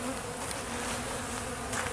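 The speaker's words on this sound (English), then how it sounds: "And we have a massive amount of bee activity. A lot of wonderful bees here." Dense buzzing of many honeybees flying around their hives on a sunny day, a steady, close, continuous hum with no talking.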